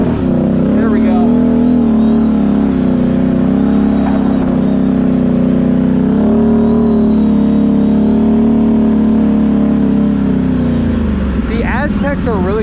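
A Can-Am Renegade 1000 XMR ATV on mud tires climbs a slick rocky trail, its engine droning loudly and steadily throughout, with the revs swelling and wavering near the end.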